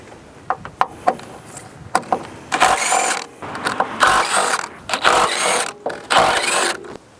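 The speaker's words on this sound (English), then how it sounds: "you can use the open end of the wrench to pull on it as you turn it" A wrench working the nuts on a Honda Accord strut tower in a repeated ratcheting rhythm, bursts of clicking and scraping metal separated by short pauses, close and fairly loud.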